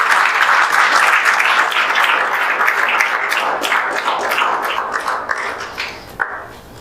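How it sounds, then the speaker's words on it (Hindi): Applause from an audience at a coaching institute's celebration for a student who achieved a JEE Main rank, a dense steady patter of many hands that thins slightly near the end. "इनके लिए जोरदार तालियां आप लोग बजा दीजिए।"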